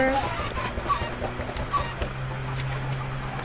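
Chickens cluck in the blocky video game Minecraft Skyblock, short fowl calls popping up over a low steady hum of game background sound, fairly quiet overall.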